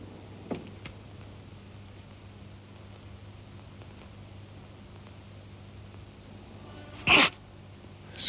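A single loud, abrupt sneeze near the end of a 1974 Afrikaans film scene, following a long stretch of steady low hum and faint room noise.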